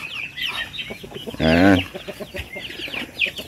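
Chickens cluck at a hatching farm, with scattered clucks and chirps throughout and one louder, drawn-out call in the middle, fairly close.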